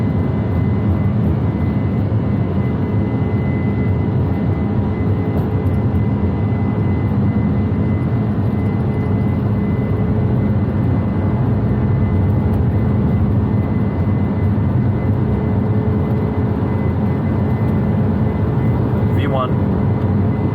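Boeing 747 jet engines at takeoff thrust, heard from the cockpit on the runway at Oslo: a loud, steady roar with a whine that holds throughout, while crew voices speak over it.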